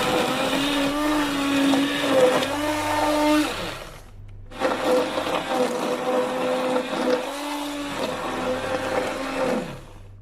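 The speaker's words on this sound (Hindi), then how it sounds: "अब मिक्सचर थोड़ा सा ठंडा हो गया है तो मैं इसको हैंड ब्लेंडर से ब्लेंड कर दूंगी।" A hand blender whirs through a bread pudding mixture of whole wheat bread, running in two loud bursts separated by a brief pause, with no talking.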